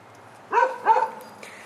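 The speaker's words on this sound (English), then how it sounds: "Freaking neighbor's dogs that they let out as I'm destroying something and recording a video." Neighbouring dogs bark twice in quick succession, moderately close and clear, followed by a fainter yip in an otherwise quiet outdoor setting.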